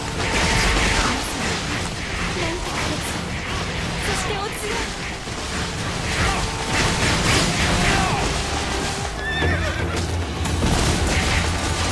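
In Samurai Warriors 4, a horse whinnies over dense battlefield sound effects, clanks and booms, with a voice talking now and then.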